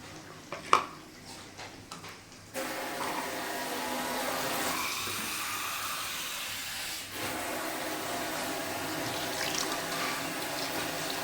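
Water running into a cooking pot in a home kitchen, a steady continuous pour after a brief clatter, close by and alone without voices.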